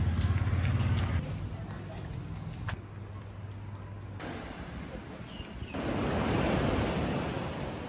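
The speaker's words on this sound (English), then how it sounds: "On Lamai Beach, you can see lots of shore breaks here." Shore-break waves crash and wash on Lamai Beach on Samui, Thailand, in a continuous loud roar, swelling toward the end, with heavy wind buffeting the microphone.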